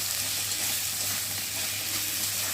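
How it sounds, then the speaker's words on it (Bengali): Salt, turmeric, ginger paste and cumin paste fry in hot oil for a Bengali banana flower dish, producing a loud, continuous, even sizzle with fine crackle and a low steady hum beneath. "স্বাদ অনুযায়ী নুন দেবো, হলুদ গুঁড়ো, আদা বাটা, জিরে বাটা দিয়ে ভালো করে কষিয়ে নেব।"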